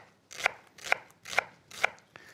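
A knife chops an onion steadily on a board, four evenly spaced crisp cuts at close range, with a quiet background between strokes.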